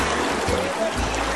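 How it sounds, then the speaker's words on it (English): Whitewater rapids on the Martha Brae River in Jamaica rush and gurgle in a steady, close, broadband wash with no voices. "You got whitewater rapids."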